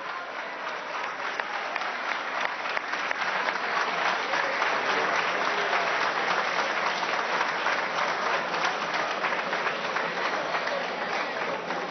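Sustained applause from a large crowd at a presidential speech announcing a wage increase, dense clapping that builds slightly and holds steady and loud for the whole twelve seconds, with faint crowd voices beneath.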